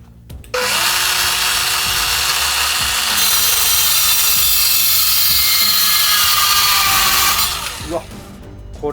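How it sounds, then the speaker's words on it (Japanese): A Makita HS301D 10.8V cordless mini circular saw bites into 1x4 lumber with a loud, high whining buzz that holds steady for about seven seconds, then winds down as the blade spins to a stop. "ちょっとこのワンバイ材を切ってみたいと思います。"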